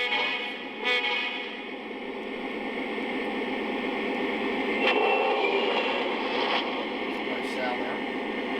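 A model train locomotive's steady engine rumble and hiss drones on with a slight rise in intensity partway through, loud and continuous, with faint clicks.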